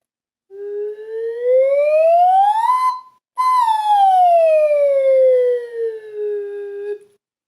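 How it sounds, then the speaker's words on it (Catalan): A slide flute, a long tube with a plunger rod, glides up in pitch, breaks briefly, then slides back down in one smooth, clear, siren-like whistle heard alone at close range. "és un tub llarg i amb aquest èmbol, que és un pal, puc moure cap a dalt, cap a baix i canviar el so de la flauta"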